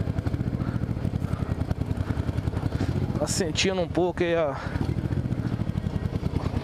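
Motorcycle engine running steadily during a ride, a constant low rumble throughout with someone talking over it.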